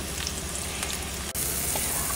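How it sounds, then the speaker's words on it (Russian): Spiced fish fillets sizzle steadily in a hot frying pan, a dense continuous crackle of oil with a faint clink partway through and no talking. "Слегка обжариваю с двух сторон."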